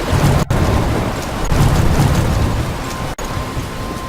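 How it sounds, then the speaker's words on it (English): A thunderstorm in Life Is Strange, with heavy steady rain and loud crashing thunder that breaks in sharp cracks twice over a constant roar, with no voices. "I'm trapped in a storm."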